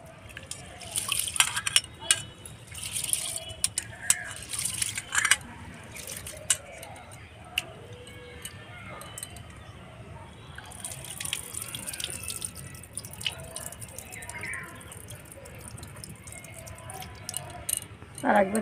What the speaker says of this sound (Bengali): চালটা ভালো করে ডলে ধুতে হবে